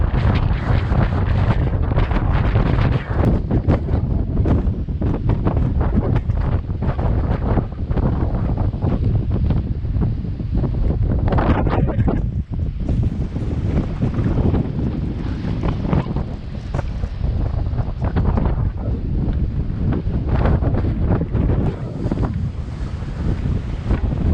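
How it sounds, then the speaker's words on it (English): Strong, ferocious wind buffets the microphone while canoeing on open water, a loud continuous roar with gusting surges and a faint wash of water beneath, no voices. "the wind is just getting ferocious"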